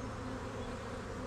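Honey bees hum around a heavy hive frame, a close, continuous low buzzing drone that holds steady throughout the brief clip.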